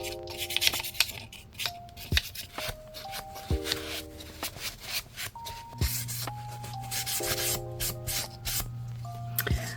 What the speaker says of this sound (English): So we're just going to go ahead and wax this up.